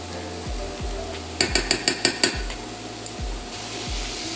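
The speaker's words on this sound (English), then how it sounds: "Mix everything in together." Tomato paste is mixed into a coconut lentil curry, with a quick run of about six sharp metal clicks and scrapes of a utensil against the pot in the middle, set against low rumbling thuds and quiet kitchen background.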